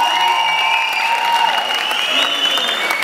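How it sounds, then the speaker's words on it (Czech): Crowd at a street dance battle jam final applauding a third-place winner, loud continuous clapping and cheering with a sustained whistle-like tone riding above it. "Dejte pro ní pořádný potlesk"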